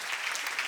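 Brief burst of congregational clapping at a Korean church seminar on First Corinthians, a dense, even patter from many hands heard close and steady with no voices over it.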